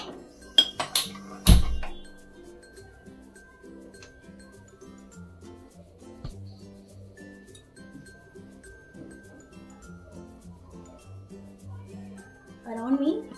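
A metal saucepan is picked up and set on the stove, with a few sharp clanks and clinks right at the start, then a long quiet stretch of faint background hum and a brief rustle of handling at the end.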